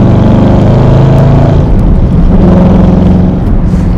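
CTR Vantage V8 engine running loud and close, a constant deep rumbling drone that rises slightly in pitch, then settles back to a steady throb.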